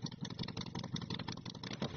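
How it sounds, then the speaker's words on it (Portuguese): A big, powerful motorcycle engine roars in a dense, continuous rumble with a fast pulsing throb, loud and close, with no talk over it. "sobe o ronco do motor"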